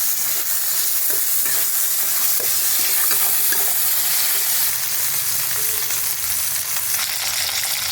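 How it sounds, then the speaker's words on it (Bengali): Onions fry in a kadai with bay leaf and whole garam masala, a loud, close sizzle broken by repeated scraping stirs of the spatula, with no one talking. "পেঁয়াজগুলো ভালো করে ভেজে নেব।"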